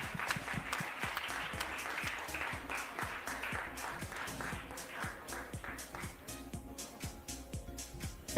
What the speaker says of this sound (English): a huge round of applause for Mr. Kakao